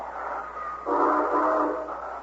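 A train, staged as a radio drama sound effect, rumbles past with a steady hum that swells midway, fairly loud and close, with no voices over it.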